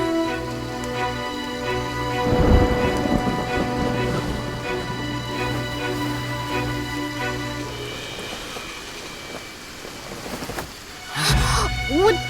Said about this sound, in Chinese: 外面打雷了，我很害怕